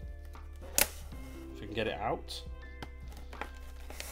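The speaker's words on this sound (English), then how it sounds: "Sorry for any noise of the plastic" Plastic wrapping on a Pokemon card box crinkles and rustles in short bursts close by, with a sharp snap, under a person talking.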